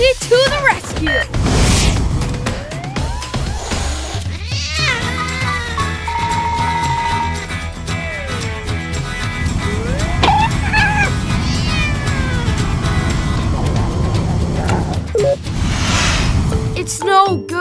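A cartoon cat lets out repeated loud meows and drawn-out caterwauls, mixed with sound effects and music beds and some talking.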